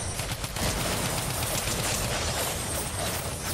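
A drum-magazine gun fires a continuous, dense stream of shots in a ranked Fortnite zero build match, holding a steady, close rattle from start to finish.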